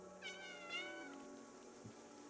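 A single drawn-out cat meow from the video game Stray, clear and fairly close, followed by a brief faint low thump in an otherwise quiet background.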